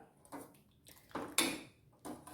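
A spoon stirring amla rasam with cooked dal in a pot, giving several soft scrapes and clinks in uneven strokes, quiet and close.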